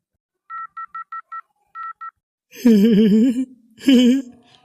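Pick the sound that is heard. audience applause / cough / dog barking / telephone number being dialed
telephone number being dialed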